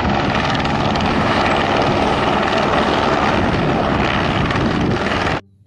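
A toy helicopter gives off a loud, steady whirring helicopter drone with a rotor-like flutter, holding even until it cuts off abruptly near the end.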